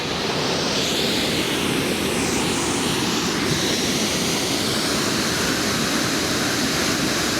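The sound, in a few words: waterfall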